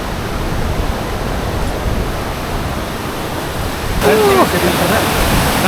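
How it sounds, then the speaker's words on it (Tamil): A waterfall at Kumbhe, Maharashtra, seen from its top, produces a loud, steady rushing roar of falling water with no letup; a voice briefly joins near the end. "ஸோ இங்கேருந்து தண்ணி கீழே விடும்."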